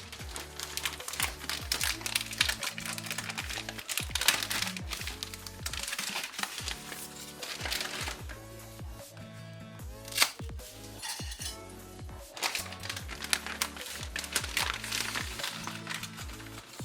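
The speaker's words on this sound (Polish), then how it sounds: "I do garnków dodajemy makaron." Dry pasta pours and rattles into pots in a steady stream of small clinks and crinkles, with a few louder knocks as pieces land.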